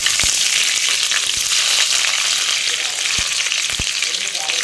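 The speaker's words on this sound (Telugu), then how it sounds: "ఆయిల్ ఘీ మనకు వేడెక్కిందండి ఫస్ట్ ఆనియన్స్ వేసుకుంటున్నాను" Onions hitting hot oil and ghee in a pan, giving a loud, steady, close sizzle throughout, with a few clinks of a spoon stirring.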